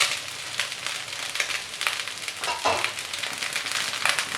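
Indonesian-style nasi goreng kampung fried rice with dried fish and prawns sizzles in a hot pan, a steady close crackling hiss broken by rhythmic scraping as it is stirred.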